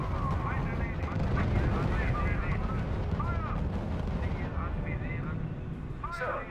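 Battle gunfire and artillery from the strategy game R.U.S.E., a dense continuous rumble of shots and distant blasts with radio-style voice chatter layered on top.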